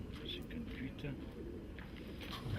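Racing pigeons cooing in their baskets near an old harbour esplanade, a soft, faint, low murmur of overlapping coos under quiet background noise.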